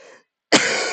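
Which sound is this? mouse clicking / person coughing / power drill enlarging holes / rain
person coughing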